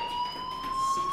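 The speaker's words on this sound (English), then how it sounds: "Hey, do you hear that fire alarm?" Steady electronic fire alarm from the video game Life is Strange, a loud continuous high tone droning without a break, with no talking over it.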